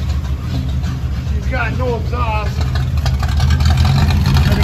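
A 1970 International Scout engine idles steadily while warming up, a loud, continuous low rumble throughout, with someone speaking briefly over it partway through.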